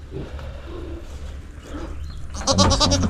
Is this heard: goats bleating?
yes